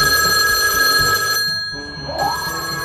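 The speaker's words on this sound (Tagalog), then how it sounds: "Ayan na, tumutunog na yung telepono." A telephone rings loudly with a repeated bell tone, pausing briefly in the middle before ringing again, close by and with no talk.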